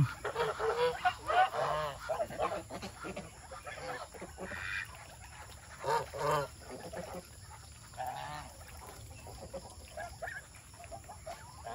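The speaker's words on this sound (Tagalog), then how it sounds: "Yan yung gansa na yan." Repeated loud honking from geese at a livestock pen, several bursts in irregular succession close by, with some quieter honks and background noise between them.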